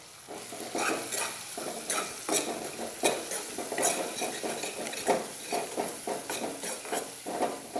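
Onion-garlic masala and garam masala being stirred and sautéed in a pan for a sprouted moth bean dish: a steady sizzle under repeated scraping and clinking spoon strokes in an irregular rhythm, close and fairly loud, with no talking.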